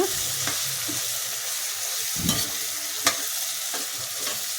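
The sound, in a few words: brinjal (eggplant) frying and sizzling in a pan for vangi bath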